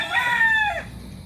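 A single rooster crow rings out, one drawn-out call fading near the end, from a farm of gamecocks in Barangay Santor, Tanauan City, Batangas.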